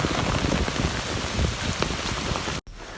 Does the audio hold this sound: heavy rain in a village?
yes